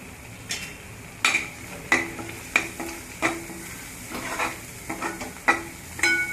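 Thick gravy cooked until the oil separates, with half a spoon each of red chili powder and black chutney added, sizzling in a pan while a spoon scrapes and clinks against the metal in a regular stirring rhythm.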